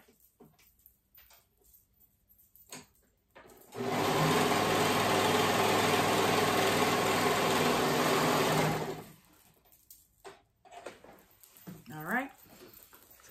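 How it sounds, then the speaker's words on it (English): A serger sewing dress fabric runs in one continuous steady burst for about five seconds, a loud mechanical whir, with quiet rustling before and after. "I'm using my serger"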